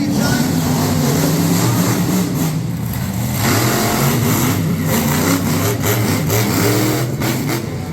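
Monster trucks Be Aware and Virginia Giant racing head to head at a Middletown, NY event: loud, steady engine roar with revving surges throughout, an announcer talking over it.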